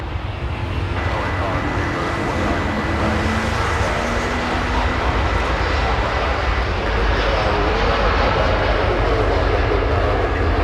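British Airways airliner on approach to LAX, a loud, steady jet roar sustained throughout at close range, with voices talking over it.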